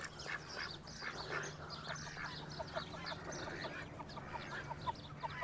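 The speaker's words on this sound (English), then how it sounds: "You geese always think you're guard dogs or something." Geese honking and cackling close by at Lanesborough in County Longford, a run of repeated nasal calls over a low steady background hum.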